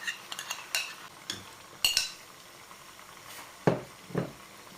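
Masala being mixed into a yogurt marinade in a pot for chicken biryani, heard as scattered scraping and clinking spoon strokes against the pot with soft wet stirring, close and without talk.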